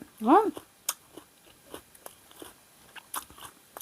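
Squid larb eaten with crisp fresh raw vegetables, a series of close crunchy bites and chewing sounds in quiet surroundings, with a short vocal murmur near the start.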